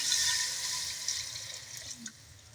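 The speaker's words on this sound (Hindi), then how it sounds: "अब हम इसके अंदर पानी लगाते हैं जितना आपको मुनासिब लगे" Water pours into a fish curry as it cooks, a steady hissing splash that stays close and gradually tapers, with no voices.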